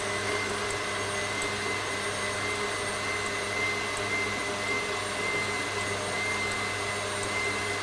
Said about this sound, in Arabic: وسرعه الخلاط تكون في اقصى سرعه.